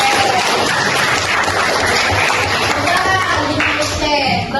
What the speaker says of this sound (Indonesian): Mau tepuk tangan dulu boleh.